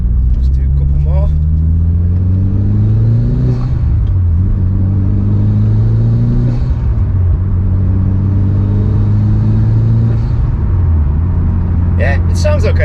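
A Mitsubishi Evo 9 engine fitted with a GFB blow off valve revs in repeated rising and falling surges, loud and close, with short sharp hisses of the valve venting between revs.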